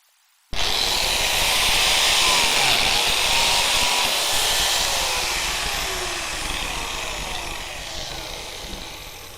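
A biscuit joiner bites into wood with a sudden loud, high whine and grinding cut that starts abruptly from silence, then slowly fades as the blade spins down over several seconds.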